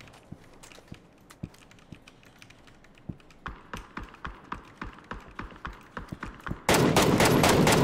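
PUBG gunfire crackles in sharp, spaced single shots that quicken into a steady rhythmic volley, then give way to a loud continuous burst of noise at the end.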